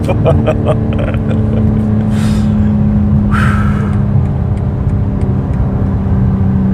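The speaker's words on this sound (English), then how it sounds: "The way this car shoots off is just insane." A 2022 BMW M4 Competition xDrive, a G82 sports car, pulls hard with a loud, steady engine roar heard from inside, sustained without break throughout.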